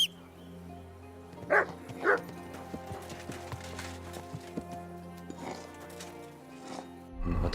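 Mutt the dog in Kingdom Come: Deliverance 2 gives two sharp, fairly close barks about half a second apart over a steady game backdrop of ambient tones and faint hoof clops.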